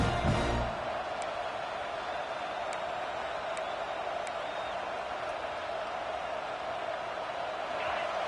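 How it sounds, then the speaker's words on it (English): Steady roar of a large crowd filling a stadium, a constant wash of noise with a few faint whistles cutting through. "listen to this crowd noise. This stadium is vibrating."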